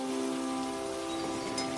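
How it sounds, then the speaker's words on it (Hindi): Heavy rain pours over a jungle in a cartoon story, a steady wash of hiss lying beneath sustained musical tones throughout. "कुछ दिनों के बाद जंगल में बहुत जोर की बारिश हुई।"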